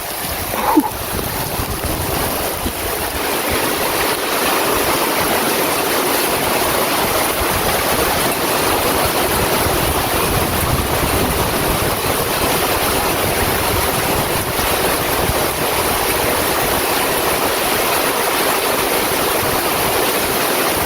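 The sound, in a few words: rainwater running off driveway down swale into pond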